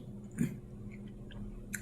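Chewing on chicken nearby, faint and soft, with a few moist bites and crunches over a low background hum and no talking.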